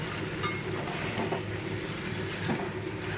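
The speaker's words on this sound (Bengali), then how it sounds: "আবার এর সঙ্গে মশলাটা নেড়ে চেড়ে কষিয়ে নেব" Spices, soybeans and vegetables stir-fried in a pan, giving a steady, fairly quiet sizzle with faint scraping of stirring throughout and no voice.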